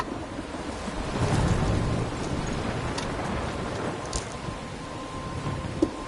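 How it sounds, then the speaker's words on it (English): Thunderstorm in Life is Strange: steady rain hiss with a rolling rumble of thunder swelling and fading early on, then continuing rainfall with a few scattered drips and taps. "I'm trapped in a storm?"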